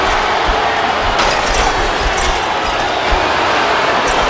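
A capacity arena crowd roars without pause in the Xbox 360 wrestling game WWE SmackDown vs Raw 2007, a loud, dense wash of cheering throughout.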